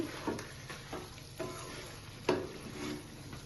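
Chicken frying in a pan while being stirred, quiet steady sizzling with soft periodic scraping strokes of a spoon roughly every half second, heard close with no voices.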